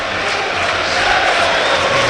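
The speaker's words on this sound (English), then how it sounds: "more applause around this stadium here for Christian Walton." Roaring crowd noise around a football stadium during Ipswich Town against Brighton & Hove Albion, a loud continuous wash of cheering and clapping for the goalkeeper, with no clear individual claps.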